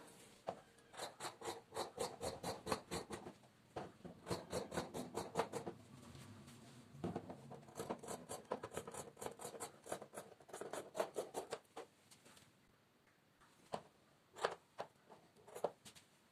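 Scissors cut through churidar fabric for a layer-cut designer churidar, producing bursts of rapid, close snipping and crisp rubbing strokes in runs, separated by brief pauses and a few isolated snips near the end, with no talking.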